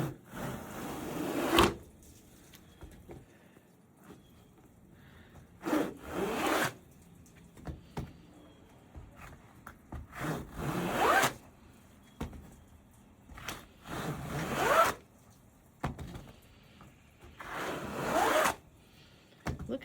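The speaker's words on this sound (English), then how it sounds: "coming in with the squeegee." A squeegee pulled across wet carpet during an at-home carpet cleaning rinse, giving repeated loud rubbing, zipping strokes in a steady rhythm, about five passes with quiet pauses between them.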